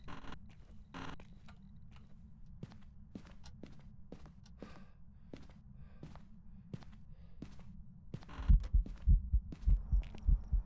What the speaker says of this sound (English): You'll hear your heartbeat going and all sorts.